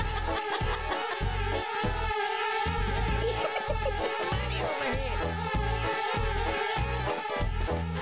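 Dense insect buzzing from a swarm of bees in Conker's Bad Fur Day, a steady loud drone that throbs in a regular pulsing rhythm and carries on without a break.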